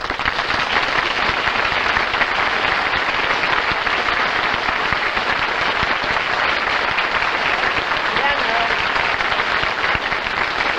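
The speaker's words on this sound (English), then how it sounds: "Dennis, they're applauding." Studio audience applauding at a radio and television comedy show, dense sustained clapping from a large crowd, loud and unbroken from start to finish.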